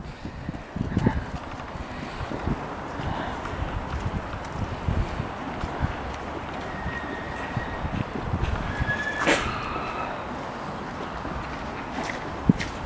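Horses whinny now and then over steady wind noise, with hooves clopping and shuffling close by.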